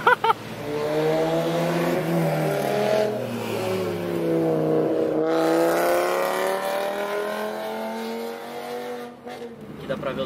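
A Ford XR3 runs on a racetrack alongside other cars, engine notes rising and falling in long revving sweeps, fairly close and loud, with some background voices.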